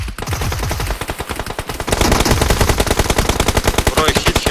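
Dense, loud automatic gunfire from PUBG Mobile fills the whole moment, with rapid bursts in quick succession that grow even heavier and more continuous partway through.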